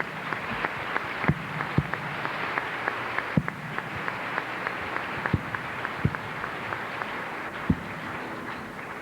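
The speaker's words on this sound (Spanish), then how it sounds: "Recibamos pues con un muy fuerte aplauso al Señor Jesús" Audience applause greeting a speaker at a Catholic religious gathering: steady, moderately loud clapping from a crowd, with sharper individual claps standing out throughout.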